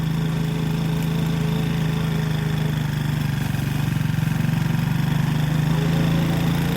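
A steady, droning classic motorbike engine runs continuously at close range while riding on a rural road in Thailand, its low hum holding level with a slight rise toward the end.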